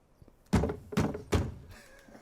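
Three heavy knocks on a door in an anime scene, evenly spaced and loud, each a dull thud with a short ring-out, followed by a brief quiet tail.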